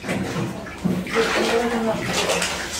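Water sloshes and splashes as a person lies back for baptism by immersion at a Russian Christadelphian service, a steady close wash of water with faint voices underneath.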